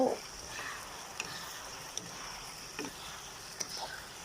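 Soy-sauce pork belly stir-fries over high heat with coriander and spring onion, a soft steady sizzle with faint scraping stir strokes, no talk.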